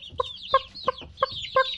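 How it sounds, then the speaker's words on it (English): A chicken clucks in a series of five short, evenly spaced calls, close and fairly quiet, with no one talking over it. "You could feed the chicken while we wait."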